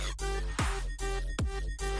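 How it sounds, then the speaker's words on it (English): A bright, buzzy synth tone repeats in short notes with sharp downward pitch sweeps at the starts, dry and close. "without all the effects, it sounds like this"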